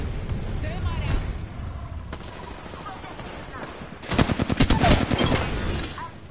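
Gunfire in the Apex Legends video game, with scattered shots early on and then a loud rapid burst of automatic fire near the end, mixed with game sounds and a voice speaking.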